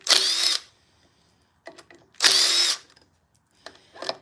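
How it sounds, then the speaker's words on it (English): A power drill backs pocket hole screws out of woodwork in three bursts: two longer whirring runs and a short final one, with quiet gaps between them, close and loud. "So I'm going to take these fasteners out."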